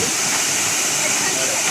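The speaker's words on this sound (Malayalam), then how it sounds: "ആ വെള്ളത്തിൻ്റെ സൗണ്ടൊക്കെ കേൾക്കുമ്പോൾ എന്തോ ഒരു പ്രത്യേക രസമുണ്ട്" Wahkaba Falls in the Khasi Hills of Meghalaya crashing onto surrounding rocks, a steady dense hiss-like roar of falling water, loud and unbroken.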